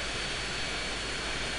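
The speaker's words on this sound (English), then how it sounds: "That was the cargo plane." A cargo plane's jet engine roars in Airport Simulator 2014, a steady broad rushing whine held at even volume throughout, with nobody speaking.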